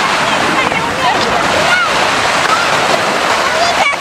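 Close, loud rush of shallow waves washing and splashing along a shallow seashore in Mezhvodnoye, Crimea, a steady churning wash with no pauses.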